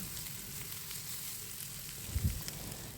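A frozen paratha fries in a pan with a steady, even sizzle close by, briefly joined by a faint low bump near the end, and no voices.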